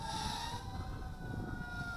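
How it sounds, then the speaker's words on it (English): A distant fire truck siren wails steadily behind wind and outdoor noise, its tone faint but continuous throughout. "I hear fire trucks."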